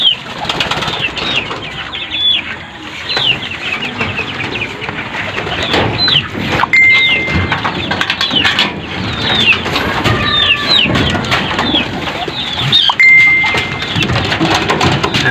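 Pigeons flapping their wings during trapdoor trapping practice at a loft, a steady busy flutter throughout with occasional bird calls and faint background noise.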